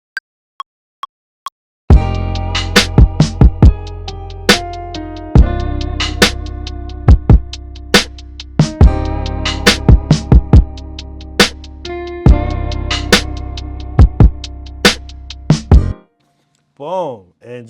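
A MIDI guitar sound plays a string of sharp plucked notes and chords in an uneven rhythm, loud and close, ending with a warbling, swooping tone as the pitch knob bends it.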